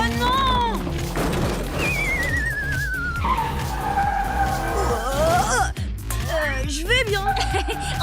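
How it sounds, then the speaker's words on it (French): Animated toy race cars speed through city streets, tires screeching in long sliding squeals and skids over a rumbling engine bed, with excited character voices talking throughout. "Queen et Chase font la course dans la ville."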